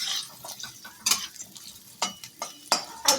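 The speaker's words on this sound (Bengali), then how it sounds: "এবার আমি তেলে আলুগুলো দিয়ে দিই।" Potatoes drop into hot oil seasoned with white and black cumin seeds, giving a soft sizzle broken by several sharp scraping stirs of a spatula against the pan, close and without talk.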